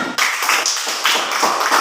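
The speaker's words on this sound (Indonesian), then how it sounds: "Silakan dulu tepuk tangan" A classroom of students applauds together, a dense, steady burst of clapping that starts sharply and carries on evenly for about two seconds with no talk over it.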